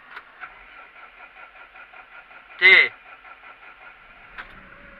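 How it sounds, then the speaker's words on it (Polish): A tractor engine cranks and fires in a short loud burst midway, starting on a farm during daily cow chores, with a voice speaking briefly and a steady hum beneath. "Odpalamy sobie ciągnika"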